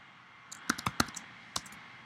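Keys being typed on a computer keyboard while entering a password, a quick burst of sharp, close clicks of varied loudness with a short pause before two final taps.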